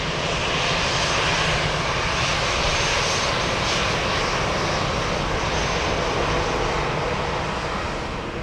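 Vietnam Airlines Boeing 777 jet taxiing at Frankfurt airport, a steady loud engine roar with broad rushing hiss that holds unbroken throughout, close by, with no talk.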